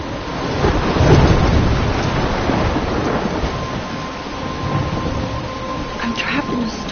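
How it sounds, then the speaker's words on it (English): Thunderstorm in the video game Life is Strange, with steady heavy rain hissing throughout and a deep thunder rumble swelling near the start, continuous and loud. "I'm trapped in a storm?"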